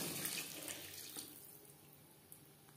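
Water poured into a pan of tangra fish curry with eggplant, a soft steady splashing and running flow, fairly faint and close, easing off toward the end.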